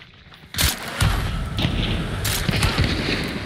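Shotbolt gunshots in Hunt: Showdown, a few loud, sharp booming reports spaced about a second apart, each trailing off into a rumbling echo outdoors.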